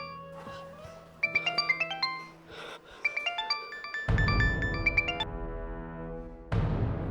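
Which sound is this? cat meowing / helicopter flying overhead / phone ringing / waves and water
phone ringing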